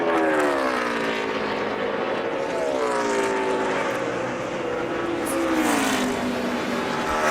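Kurt Busch's 22 NASCAR Sprint Cup car runs a 2011 practice lap at Dover International Speedway. Its engine drones from a distance with gliding, rising and falling pitch as it circles the track, steady and moderately loud.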